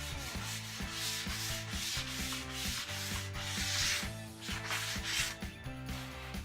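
Rhythmic back-and-forth scratching of sandpaper rubbed by hand up and down a wood edge to round it off, repeated strokes close up, with background music playing underneath.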